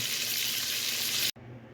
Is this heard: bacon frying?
yes